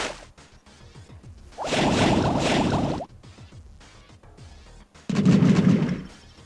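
Soviet units in the Command & Conquer Red Alert video game fire in two loud bursts of crackling gunfire and blasts. A sparse, quieter stretch of clicking lies between the bursts.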